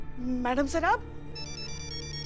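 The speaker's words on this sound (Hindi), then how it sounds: "किसका फोन है?" A phone ringtone in a Hindi TV crime-comedy scene sounds a quick repeated electronic chime, bright and steady, starting just after a short burst of speech and continuing to the end under room tone.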